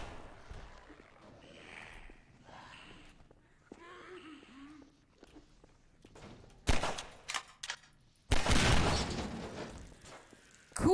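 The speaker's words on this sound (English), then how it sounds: "I am almost out of ammo. Probably doesn't help it. Shooting these fellas." Gunfire rings out in Half-Life 2, coming as a few sharp bursts and then a longer loud volley near the end, after quieter stretches where a person talks.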